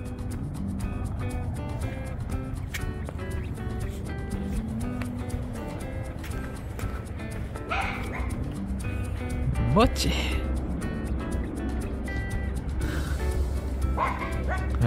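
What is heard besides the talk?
dog barking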